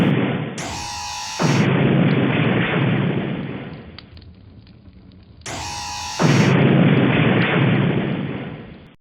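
Two heavy photon cannon blasts in a video game, each opening with a sharp high zap followed by a long roaring rumble, loud and close, separated by a brief lull.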